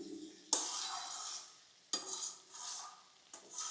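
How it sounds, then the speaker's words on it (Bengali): Softened onions and winter vegetables fry in a pan over raised heat, with three distinct scraping stir strokes cutting through a steady close sizzle; no one speaks. "ঘুরিয়ে ঘুরিয়ে পাল্টে পাল্টে একটু নেড়ে দিতে হবে"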